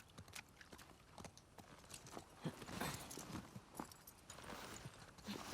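A horse's hooves from The Last of Us Part II clop up a set of stairs in uneven, hollow strikes, close and fairly quiet, with a couple of heavier thuds as the gait shifts.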